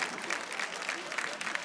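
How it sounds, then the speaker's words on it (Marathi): A studio audience at a Marathi TV show claps loudly for a woman guest, a dense, even burst of applause from a crowd filling the whole moment. "एकदा जोरदार टाळ्या ताईंसाठी झाल्या पाहिजेत"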